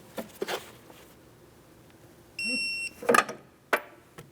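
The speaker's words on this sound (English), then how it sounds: "I'm going to torque these bolts to 44 foot-pounds." A torque wrench gives one clear electronic beep as a control arm bolt on a 2003-2007 Cadillac CTS front shock assembly reaches 44 foot-pounds, between scattered metallic clicks and knocks of the wrench and parts.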